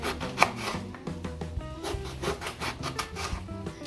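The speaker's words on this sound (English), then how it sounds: "I'm slicing the eggplant." Rapid, rhythmic knife strokes chop through eggplant onto a wooden board, close and steady with faint rasping between cuts.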